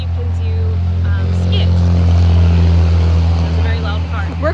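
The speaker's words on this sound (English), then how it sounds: "That's a very loud car. We're close to a road." A loud car passing on a nearby road, a sustained low engine rumble that swells and fades across the whole stretch while people talk over it.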